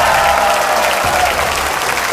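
Steady, dense applause from a television singing-contest audience for a young singer, filling the room evenly for a couple of seconds with a constant wash of clapping and faint crowd noise.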